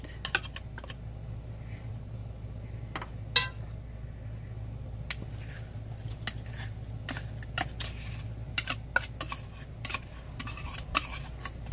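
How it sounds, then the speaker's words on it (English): Macaroni salad with three cans of tuna being mixed in a pan, with sharp utensil clinks and scrapes against the pan scattered over a steady low hum, no talking. "I'm just going to mix our whole macaroni salad in this pan, adding in 3 cans of tuna"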